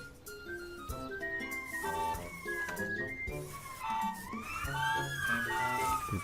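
A toy radio-controlled ambulance in a kitten simulator video game sounds a warbling electronic siren, rising and falling tones layered over game music, clear and steady throughout.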